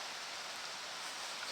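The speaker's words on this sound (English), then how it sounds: "It's been a while since we've camped in the rain, actually." Rain falling on a campsite near the Cline River, a soft, even hiss of drops with no breaks, faint and uniform.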